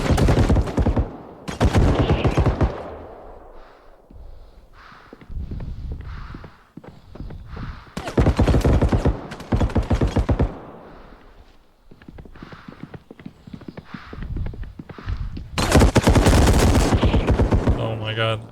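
Gunfire in a first-person shooter game: repeated bursts of rapid automatic shots in several clusters, loud and close, with quieter gaps between them.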